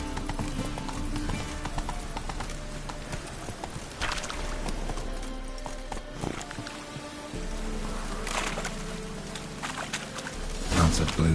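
Hooves of Roach, the horse in The Witcher 3 video game, clip-clop steadily at a trot across the whole stretch, blended with game music and a faint rain-like ambience, with a louder clatter near the end.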